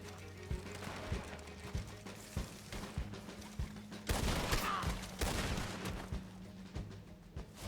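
Red Dead Online video game gunfight, with repeated gunshots in an uneven rhythm, a dense burst of fire midway, and steady background game sounds, heard alone without talking.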